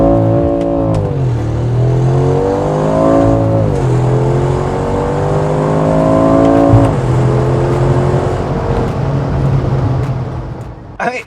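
A Mercedes-AMG G63 with its exhaust flaps open revs up loudly and close by, in several rising, roaring pulls that drop back between them. The deep engine note is continuous across the whole stretch.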